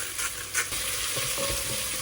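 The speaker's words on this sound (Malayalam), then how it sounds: "അതിലേക്ക് നമ്മുടെ വെജിറ്റബിൾസ് എല്ലാം നമ്മൾ ഇടുന്നു. നന്നായിട്ട് ഇളക്കി കൊടുക്കുക." Vegetables stirred in a hot pan, a dense close sizzle with soft scraping strokes running steadily throughout.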